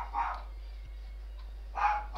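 Two short dog barks, one near the start and one near the end, stand out over a steady low background hum while someone plays a SkyWars match in Minecraft.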